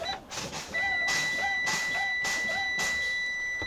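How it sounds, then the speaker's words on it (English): A steady high-pitched electronic low air pressure warning buzzer on a truck drones continuously as the brake pedal is pumped, with rhythmic hissing bursts of air repeating underneath at regular intervals. "When you hear the buzzer, take a pause and tell the tester, my buzzer is on"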